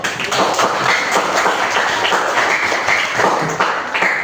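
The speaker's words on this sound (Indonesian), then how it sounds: "Tepuk tangan dulu." A classroom of students claps hands together, producing a dense, steady patter of overlapping claps that fills the whole stretch at close range without pause.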